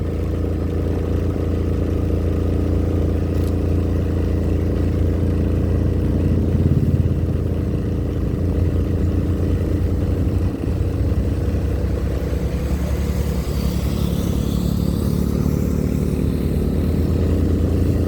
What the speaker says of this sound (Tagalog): Ang lakas ng kanyang motor